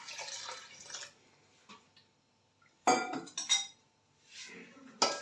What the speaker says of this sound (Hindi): चम्मच के साथ इसको मिक्स कर देती हूँ।